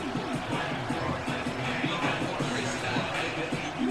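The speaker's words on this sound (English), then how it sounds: "The English crowd is ready." Big stadium crowd at Wembley for an American football game between the Patriots and the Jaguars, a steady dense roar and murmur of thousands of fans filling the space, with indistinct chatter throughout.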